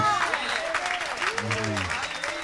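A church congregation claps for the worship musicians, a steady rattle of many hands with a voice speaking over it partway through.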